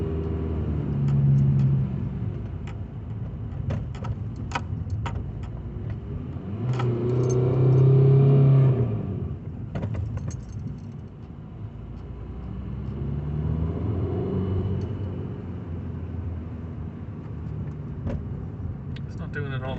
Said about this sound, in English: Sometimes when we accelerate, the revs are going all the way to the top of the car as in accelerating speed, so the clutch is slipping